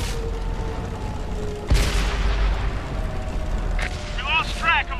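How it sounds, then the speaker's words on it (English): A Type 95 tank's cannon fires in a video game with a single heavy, booming blast that rolls out over continuous engine rumble, and radio-style voice chatter follows. "Ready to fire on target."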